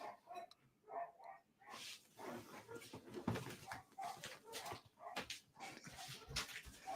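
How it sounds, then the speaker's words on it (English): A cat gives dog-like whimpering yelps and grunts, faint and close, in short irregular bursts throughout. "Your cat sounds like a dog now."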